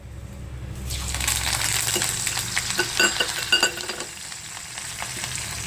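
Curry leaves hit hot oil with a sudden burst of crackling and spitting that settles into a steady close sizzle, with a few utensil clicks and no voices, while mixture snacks are being fried.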